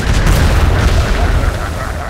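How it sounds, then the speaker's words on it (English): Galleon cannons fire during a naval fleet battle in the video game Atlas, producing a steady run of loud, low booms and blasts that roll on without a break for about two seconds. "he's just wasting his cannon shots."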